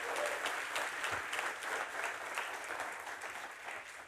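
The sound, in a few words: audience applause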